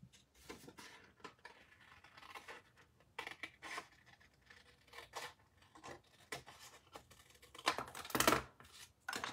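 Scissors cutting a swooshy paper shape for a handmade card, a series of close, quiet snips and rustles with a sharper slice near the end.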